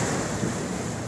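Choppy sea waves wash along the seaside at Naga, Cebu, a continuous broad rushing surf mixed with wind buffeting the microphone.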